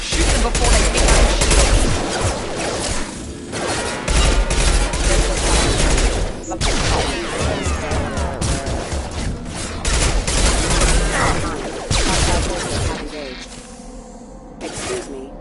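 Dense, continuous automatic gunfire from a Mass Effect 2 firefight fills the whole stretch with rapid bursts, with brief breaks, and voices break in over the shooting.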